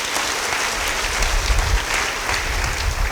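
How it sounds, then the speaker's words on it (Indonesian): A congregation at a church service breaks into applause, dense continuous clapping that stays loud and even from start to finish with no talk over it. "Beri tepuk tangan bagi dia."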